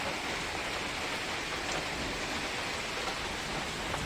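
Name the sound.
wind and rain outside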